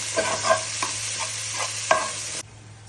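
Crushed shallots and fish masala mixed in a sizzling pan, with several scraping spoon strokes over a steady frying hiss that cuts off abruptly near the end; nobody speaks.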